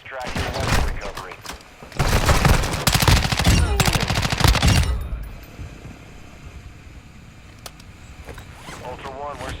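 Dense automatic gunfire in a Call of Duty match, heavy bursts of rapid shots for the first several seconds, then fading to quieter scattered background combat noise and ambience.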